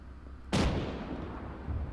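A tank cannon in the Arma 3 video game fires a single round: a sudden loud blast that rolls into a long, rumbling decay, with a faint second thump near the end.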